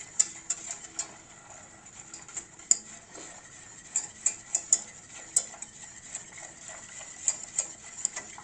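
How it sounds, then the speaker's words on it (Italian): A utensil stirs pastry cream in a pot, scraping and clinking against the sides in an irregular rhythm of sharp taps over a quiet background. "Adesso continuiamo a mescolare per evitare che si attacchi e che faccia grumi."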